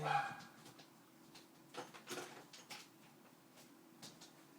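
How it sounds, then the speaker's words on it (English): A dog indoors gives several faint, scattered barks and yips at a distance, with a brief clatter at the start and quiet room noise between. "My dog's barking."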